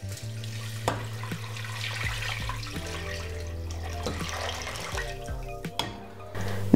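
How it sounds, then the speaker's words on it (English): Two liters of water are poured into a soup pot for Finnish salmon soup, giving a steady running, splashing gush with small clunks and drips throughout. "Now I just want to top it up with 2 liters of water."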